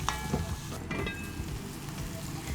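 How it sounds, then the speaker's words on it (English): Tomatoes, vegetables and curry leaves sautéing in a pot for a homemade curry, a short soft sizzle with a few light stirring clicks, fairly quiet and without speech. "we're gonna mix this together and allow it to sweat and saute really nicely"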